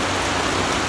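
Heavy rain pours during a rainstorm in Dubai, a dense, loud, unbroken hiss of falling water close by, with no voices.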